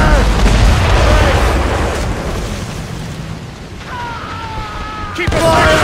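Naval cannon and mortar fire from the game Assassin's Creed Rogue, with loud deep booms and rumbling blasts that come in heavy bursts and fade between shots, while shouted voices call out over the battle.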